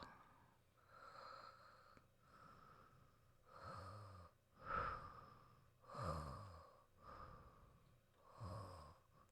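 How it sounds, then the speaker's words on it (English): A dog asleep close by snores and snorts in a slow, regular rhythm, each breath rising to a soft, nasal rasp and then fading, quiet and alone. "I have a dog snoring right next to me"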